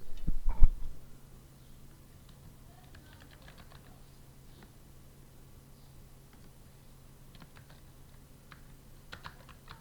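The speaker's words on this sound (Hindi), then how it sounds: "मैंने ये रैंडम लफ्ज़ इधर टाइप कर दिए हैं" Soft taps on a computer keyboard while random words are typed into a document, a brief louder knock at the start, then sparse, faint keystrokes over a low steady hum.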